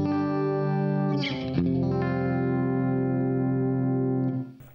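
Clean electric guitar through a Marshall amp with light compression plays sustained chords, rich and even, with a brief strummed change partway through before the notes ring out and fade at the end.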